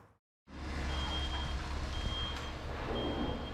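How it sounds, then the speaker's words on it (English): An automated side loader garbage truck idles with a low engine rumble after a brief silence, its reversing alarm sounding in evenly spaced steady beeps over the drone. "A Scorpion is a type of automated side loader truck used to pick up residential garbage"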